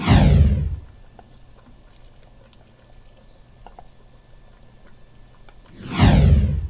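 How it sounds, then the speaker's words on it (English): Beef tripe (mondongo) drops into a Cambodian stew pot with two heavy splashing pours, one at the start and one at the end, and a quiet simmering, bubbling lull between them. "at this point, we're just gonna add our mondongo"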